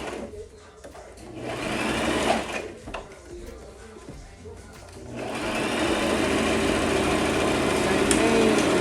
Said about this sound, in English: So just use your hands to keep it flat as you sew for guidance, just like that.